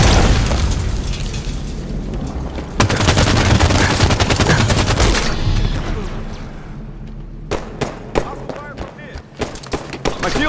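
Halo 5 Guardians ranked slayer combat: heavy grenade blasts and dense bursts of gunfire roar in close, loud and overlapping, then thin into scattered sharp shots separated by brief gaps.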